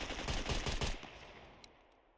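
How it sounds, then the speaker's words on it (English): Rapid machine-gun fire in the Scum survival game crackles in a quick burst for about a second, then fades into a trailing echo with a faint click afterward. "I can start shooting again."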